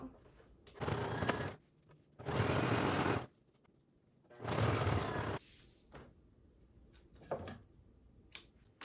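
A sewing machine stitches denim apron straps made from old jeans in three close, steady bursts of about a second each, separated by quiet pauses, with faint handling noises afterward.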